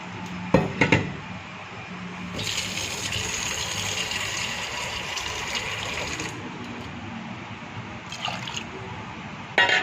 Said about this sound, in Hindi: हम लोग इसमें थोड़ा सा पानी ऐड करेंगे।